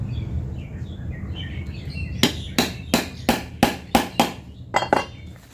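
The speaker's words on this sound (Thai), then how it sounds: "ตอกตาไก่ไว้สำหรับเสียบเหล็ก" Eight sharp metallic hammer strikes setting grommet eyelets into tent fabric without a proper setting tool, in a quick, slightly uneven rhythm, close by, after a few seconds of quiet background with faint bird chirps.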